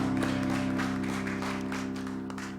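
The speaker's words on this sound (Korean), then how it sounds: "영광의 박수 올리겠습니다" Congregation applause at a Sunday morning church service: dense, steady clapping that carries through the whole stretch and fades slightly at the end, over sustained musical tones.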